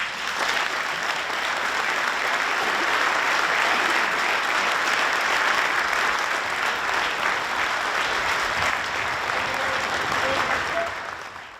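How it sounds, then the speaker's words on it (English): A Sun City audience gives sustained applause after a Navy veteran speaks, a broad, even wash of many clapping hands holding steady for over ten seconds before tapering off. "Cue the clapping"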